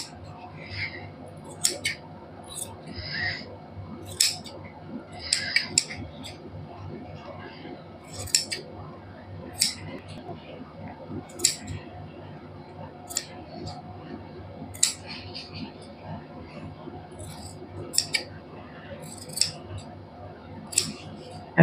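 Scissors snipping through fabric while cutting a suit design, with crisp individual cuts arriving in irregular clusters and someone talking throughout beneath them.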